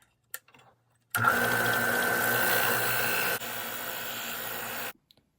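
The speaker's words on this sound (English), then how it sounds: "I'm going to belt and disc sand this because I can" A belt and disc sander shaping a wooden lipless crankbait fishing lure runs steadily for about four seconds, a close, dense grinding roar that drops slightly in level partway through before cutting off.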